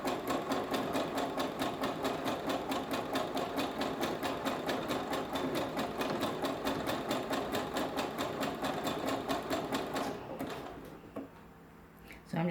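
A sewing machine runs at a fast, steady rate, top-stitching knicker elastic, its rapid needle ticks loud and continuous for about ten seconds before slowing to a stop.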